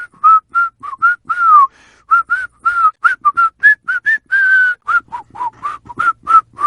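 A character in the video game Tales from the Borderlands whistles a lively tune, a string of short, bright, close notes with a few longer held tones and brief gaps.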